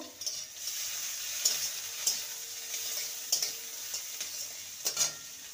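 Chopped green chillies and onion fry in a pan with a constant fine sizzle, punctuated by several sharp clicks and scrapes as a spoon stirs against the metal, with no voices.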